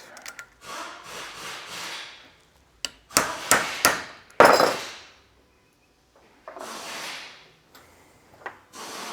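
Sharp metallic taps and knocks ring out in short clusters during an E30 M3 rear brake upgrade, with scraping and handling noises between the hits.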